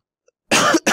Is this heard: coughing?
yes